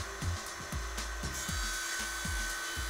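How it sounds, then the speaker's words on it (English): A saw cuts through a Parador solid vinyl flooring plank in steady, rhythmic strokes, each pass a low rasping push repeated about twice a second, close and loud over a constant background hiss. "For lengthways cuts, you can use a jigsaw as well as a manual or circular table saw."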